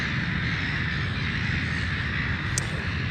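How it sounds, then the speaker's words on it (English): Crows cawing near Jervis Bay, a few harsh calls over steady broadband wind or surf noise, with one brief sharp call standing out near the end. "Well, there's a load of birds."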